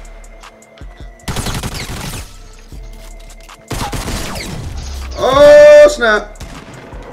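Rapid bursts of gunfire in the video game Fortnite crackle loudly in several volleys, with someone talking and exclaiming over and between the shots.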